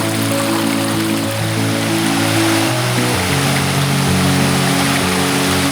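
Rushing river water of the Río Mundo beside a forest trail, a steady loud broadband roar that fills the whole clip without letup, with no voices.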